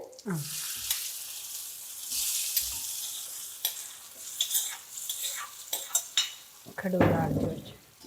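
Ingredients fry in oil in a pan with a crackling sizzle, broken by intermittent stirring and scraping of a utensil against the metal. It swells louder toward the end.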